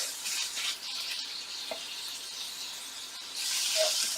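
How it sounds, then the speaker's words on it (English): Onions sauté in a pan for beanie burgers, making a soft, steady sizzle with light crackles that swells louder near the end. "Okay, so I'm sauteing those onions"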